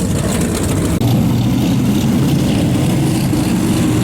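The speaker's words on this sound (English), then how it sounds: "Those engines of the Vector Martini sound remarkably smooth and quiet." Loud, steady low engine drone, a deep continuous rumble of several powerboat motors idling together during the Cowes Torquay Race 2015, with a brief dip before resuming.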